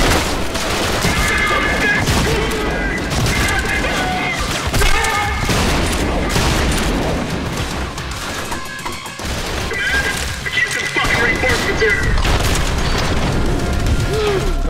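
Dense, loud shotgun fire and booming blasts come from combat in the video game Trepang2, with shots overlapping almost continuously amid crashes and impacts.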